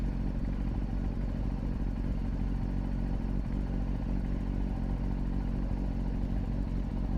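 A CF Moto 250cc NK motorcycle ridden through a Malaysian city at night, a steady low engine drone with wind rumble, constant and close, no talk.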